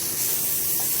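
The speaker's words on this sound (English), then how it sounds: "Non-stick spray." Non-stick cooking spray hisses onto a measuring tool in one steady, close burst lasting about a second, with no talking.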